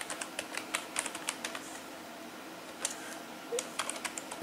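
Computer keyboard typed on steadily, a run of light, evenly spaced clicks, a short pause, then more keystrokes, moderately close over faint room hiss, no speech.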